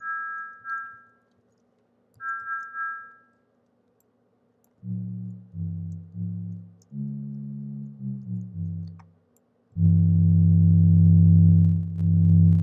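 Unsmoothed Reaktor synth tone: two short high beeps, then a run of stepped low notes with audible clicks at each change, ending in a sustained buzzy low drone.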